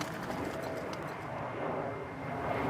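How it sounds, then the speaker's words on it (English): British Airways passenger airliners fly overhead on approach near a large castle at dawn, a distant steady jet rumble under birdsong with pigeons cooing nearby. "the dawn chorus this morning are the Branson birds and the British Airways migrating in from the Americas"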